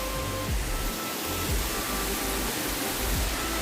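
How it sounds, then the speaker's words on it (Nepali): A waterfall on a ride up to Kavre, a steady broadband rushing of falling water, loud and continuous with low rumbling thumps underneath. "उयो झरना छ।"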